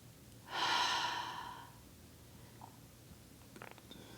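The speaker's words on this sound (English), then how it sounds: "Keep breathing." A single long, audible breath in a yoga class, lasting about a second, with a soft airy rush that fades out. Quiet room tone and a few faint small sounds follow.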